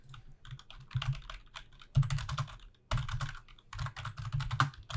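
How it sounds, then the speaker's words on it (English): Rapid, clattery typing on a computer keyboard, irregular bursts of keystrokes with a low thumping rumble underneath, fairly close and moderately loud, with no talking. "It sounds like you type on a typewriter that needs oil."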